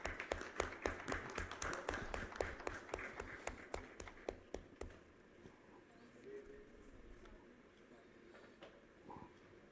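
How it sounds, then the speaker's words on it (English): Audience at a rare diseases summit giving a round of applause, sharp rhythmic claps for about five seconds that fade abruptly into quiet room murmur with faint scattered sounds. "Please give her a round of applause"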